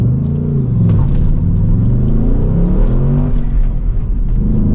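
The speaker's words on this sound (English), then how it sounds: "let's do a launch control again, which is why I put the RPM to a lower range" A 2024 Ford Mustang GT Convertible Premium launches under launch control on a wet road, its V8 roaring steadily at low revs with rising and falling engine tones as the tyres struggle for grip, loud and continuous.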